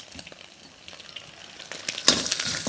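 Vegetables for Thai shrimp fried rice stir-fry in a hot pan with a crackling sizzle and scraping spatula strokes, growing louder and busier toward the end.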